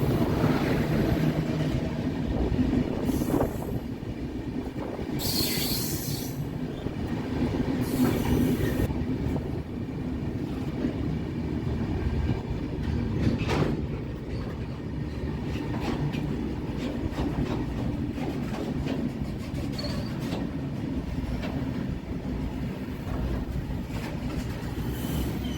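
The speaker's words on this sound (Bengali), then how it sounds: "এখানে আমাদের ট্রেনের স্টপেজ নেই, হয়তো সিগন্যালের জন্য স্লো করেছে" The Barbil Jan Shatabdi Express rolls through near Chakulia, heard from aboard as a continuous loud rumble of wheels on rail with clickety-clack and occasional squeals while it slows for a signal, with no voices.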